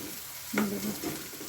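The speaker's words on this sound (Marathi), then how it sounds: "कांदा छान आपल्याला लाल होईपर्यंत भाजायचा आहे" Chopped onions fry in a pan for shev bhaji gravy, a soft steady sizzle with a brief stirring scrape and clink of a spoon partway through.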